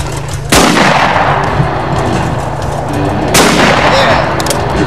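Two loud, sharp shotgun blasts fired at thrown clay targets, close by, roughly three seconds apart, each with a short outdoor decay and no talk over them.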